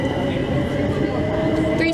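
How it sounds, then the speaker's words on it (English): An overground train runs along an elevated line overhead in London, a loud, steady rumble and rattle filling the whole short stretch without letting up. "You can also see an overground train passing on the line overhead."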